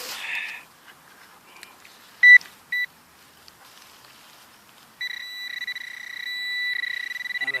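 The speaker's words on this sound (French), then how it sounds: "Alors on va poser le détecteur." A metal detector set down over a buried target gives brief electronic beeps, two sharp tones early on, then a steady pulsing warble that holds for the last few seconds, clear and close with no voices.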